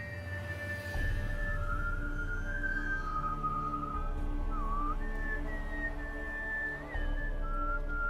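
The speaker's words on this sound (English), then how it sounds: "He's whistling the same tune as children were singing." A character in the video game The Witcher 3: Hearts of Stone whistles a slow, wavering tune, clear and sustained over a low, steady bed of menacing game music.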